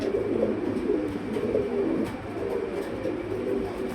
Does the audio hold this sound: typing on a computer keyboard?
no